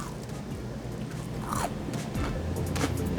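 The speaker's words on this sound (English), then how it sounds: "I hope the noise of the crunch came through because it's so crunchy." Crunchy homemade orange chicken bitten close to the mic, with a few crisp crunches and chewing over a steady low background hum.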